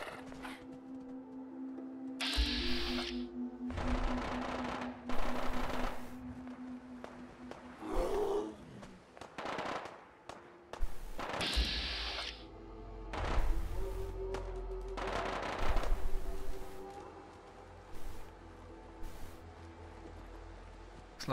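Gunfire in the post-apocalyptic video game Fallout 4: repeated loud, broadband blasts and crashes come in bursts every few seconds over a rumbling low game soundtrack, with no talking.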